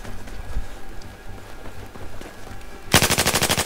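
A silenced M249 machine gun fires a rapid, loud burst near the end in the Battlefield 4 video game, following quieter rumbling in-game ambience and distant action.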